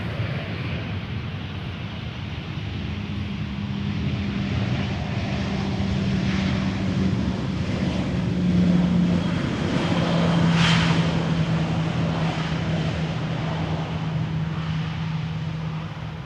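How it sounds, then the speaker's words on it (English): A low, steady drone of an airplane passing overhead near Amsterdam Schiphol Airport, swelling gradually toward the middle and easing slightly, with a faint hum throughout. "Keep hearing overhead airplanes passing by"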